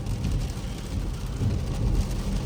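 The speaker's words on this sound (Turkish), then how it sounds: "Yağmur da ciddi anlamda yağıyor bu arada." Heavy rain drums steadily on a BMW 1.16d while it drives, a dense continuous wash of patter over low road and engine rumble.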